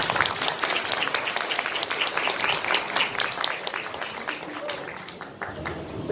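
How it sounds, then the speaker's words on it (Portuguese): An audience at a literary lecture on the 40th anniversary of a poetry book applauds steadily, with dense clapping at moderate volume that gradually thins toward the end. "Mais uma vez, uma salva de palmas."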